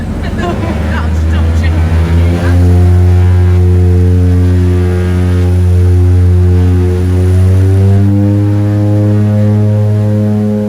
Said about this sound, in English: Pretty soon we fired up the engines and made our way out to the runway at Kathmandu.